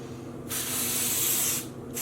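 A spray bottle mists Wilton food coloring dye onto a knitted sock blank in a single close hissing burst of about one second.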